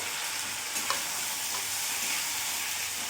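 Constant close sizzling of fried potatoes cooking in a pan over a low flame, with a few soft scrapes of stirring now and then; nobody speaks.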